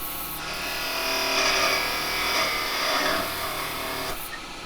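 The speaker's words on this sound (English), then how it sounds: "I'm going to loosen this up, back this off, and part this off now" Wood being parted off on a lathe: a steady, close rasping scrape of the tool cutting into a turned piece, swelling slightly mid-way and stopping abruptly near the end, with no talk.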